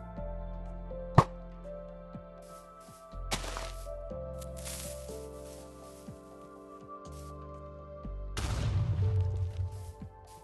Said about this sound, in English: This is the best explosion effect.